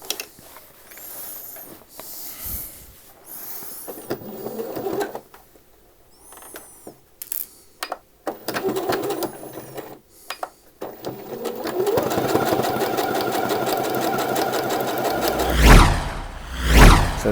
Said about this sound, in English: just want to sew your waistband to your shorts